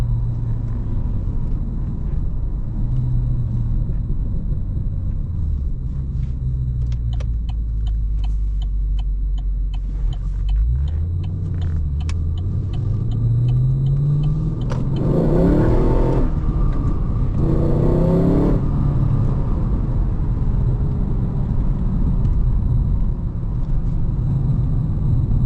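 A Holden HSV GTS drives over the Bwlch Mountain road in Wales, a loud steady engine drone from inside the car with revs climbing through gear changes and a surge midway.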